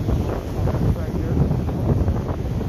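Steady low rumbling wind buffeting the microphone outdoors near a house fire, loud and continuous throughout with no clear voices.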